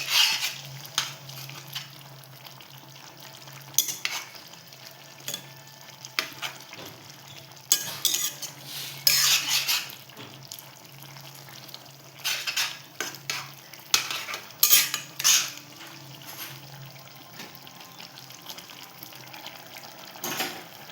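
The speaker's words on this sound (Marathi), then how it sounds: "आणि कोथिंबीर भरपूर अशी आता आपण एकत्र करून घेऊया" Repeated stirring and scraping of a spoon in a pot of Marathi-style vegetable rassa curry with plenty of fresh coriander, clinking and sloshing in irregular bursts against a soft background hum, with no talking.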